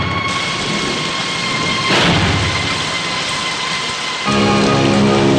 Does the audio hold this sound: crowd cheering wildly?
no